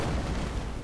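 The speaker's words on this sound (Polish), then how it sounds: "to strzelić w te beczki" Barrels explode after being shot in Enshrouded, a loud, continuous booming roar that fills the whole short moment.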